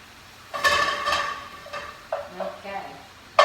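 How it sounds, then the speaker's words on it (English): Garlic, onion and celery are tossed in a frying pan with a little fat, giving a few scraping stirs and soft sizzles in short bursts, close and moderately loud with a brief clatter at the end. "Let's give it a nice toss here, the garlic and the onion and the celery."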